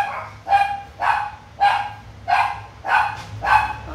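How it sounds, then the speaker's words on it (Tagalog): Dogs bark angrily in a regular series of six sharp, loud barks spaced about half a second apart, close by with little else around them. "Yung mga aso galit. Bakit sila galit?"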